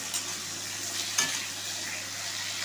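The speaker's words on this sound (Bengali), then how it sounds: "আলুটাকে আগে একটু ভেজে নেব" Potatoes fry in a home kitchen pan with a continuous bright, hissing sizzle and a low background hum, plus a brief clink or stir partway through.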